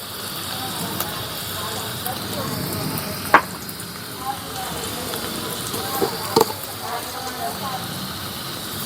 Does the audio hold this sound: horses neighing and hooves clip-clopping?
no